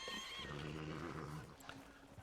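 A horse in a farming and ranching video game lets out a fairly faint whinny, a wavering neigh lasting about a second and a half before trailing off into soft background sounds.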